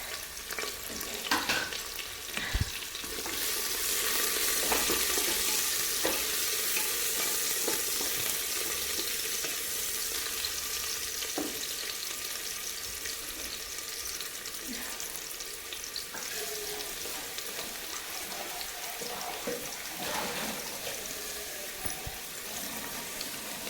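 Chopped large onions hit hot oil in a pan while cooking ghee rice, bursting into a loud, steady sizzle that settles into continuous frying with occasional stirring clinks, no voices over it.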